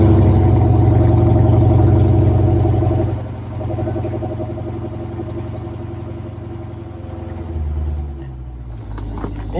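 A 2015 Dodge Challenger SRT 392 Hemi V8 rumbles loudly from inside the cabin while driving, a deep steady engine drone that eases off after a few seconds and settles into a lower cruising hum, with no one speaking.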